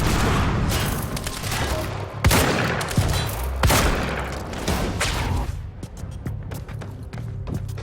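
In the video game Quantum Break, a grenade blast booms amid dense bursts of gunfire. Shots crack in rapid, overlapping volleys with heavy thuds, then thin out into scattered shots toward the end.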